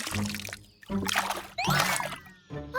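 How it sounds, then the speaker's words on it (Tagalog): Cartoon water gushes from a hose into a pool in several loud, splashy bursts separated by brief pauses. "Ngayon ay maaari nang magsali ng tubig si Dolly sa pool."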